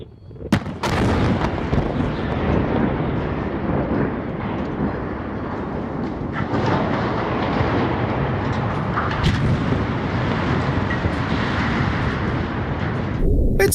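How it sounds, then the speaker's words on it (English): A fire tower crashing down at a work site, a huge roaring rumble with a sharp crack at the start, loud and close, sustained heavy crashing and debris noise that fades off abruptly at the end. "the fire tower fell with a sound like a giant collapsing in a movie"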